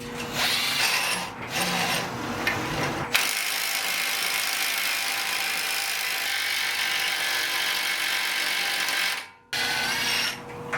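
A ratcheting tool tightens an adapter and bearing press onto the rear hub of a BMW 325i E90, pulling a new wheel bearing in; steady mechanical grinding and clicking runs near and loud almost throughout, with a brief break near the end.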